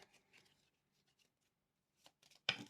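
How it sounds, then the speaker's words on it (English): Tarot cards are shuffled by hand in a quiet room, with faint soft riffling and a few light flicks ending in one louder, crisp card shuffle. "let me shuffle you a bit longer"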